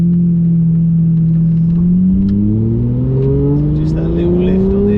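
Sports car engine at road-racing pace, loud and close, pitch climbing steadily through the gears with a brief dip as the throttle lifts on an upshift, then rising again.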